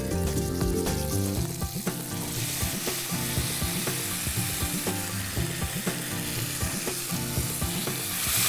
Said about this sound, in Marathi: हलकंसं पाणी घालणार आहे मी याच्यात